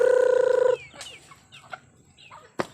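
Backyard chickens in a flock of about twenty: a loud, pulsing tonal call opens, then scattered soft clucks and short squawks follow nearby, with one sharp louder cluck near the end.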